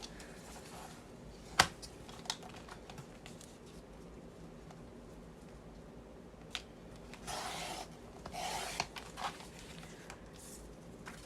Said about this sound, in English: So I'm gonna cut the length first since that'll be easier to do.